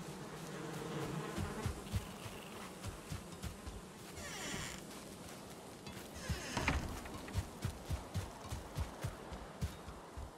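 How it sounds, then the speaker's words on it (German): Bees buzz around beehives in the video game Valheim, a steady insect hum mixed with repeated soft thuds and occasional louder game effects, with no talking. "Wir haben ja 4 Bienenstöcke"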